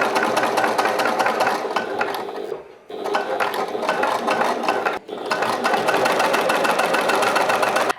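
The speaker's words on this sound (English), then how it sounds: "I'm going to stitch all the way down with no gaps at all" A sewing machine stitches down the side of a handmade triangle shoulder bag, a steady loud mechanical whir with rapid needle clatter, pausing briefly twice before running on continuously.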